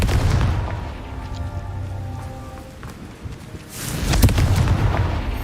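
Confringo fire spell blasts in the Hogwarts Legacy game, a dense rumbling crackle of explosions that eases off midway and then surges back louder, with no voice over it.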